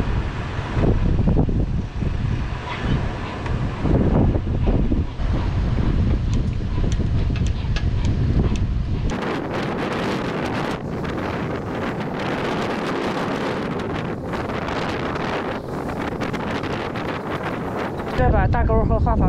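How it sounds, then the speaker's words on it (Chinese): Strong wind buffets the microphone at the seaside, a loud rushing roar with gusts that shift in strength, and a voice speaks partway through. "面朝大海，吹着大风"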